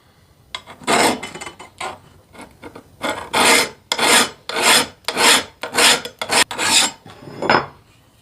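A metal file rasps along a machete's blade edge in about ten firm, evenly paced strokes, each a loud close scrape separated by short pauses.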